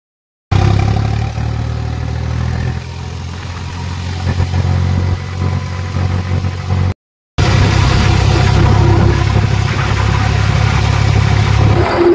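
Engine of a tractor driving a homemade generator set, a steady low diesel drone running loud and close throughout, briefly cut out near the middle, with no talk over it.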